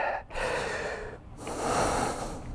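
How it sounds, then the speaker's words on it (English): Heavy, rapid breathing with sharp gasps and snorting exhales after a set of weightlifting in a pull-day workout class, close and loud, repeating in uneven bursts with no talk. "So it's okay to be a little bit breathing heavy a little bit."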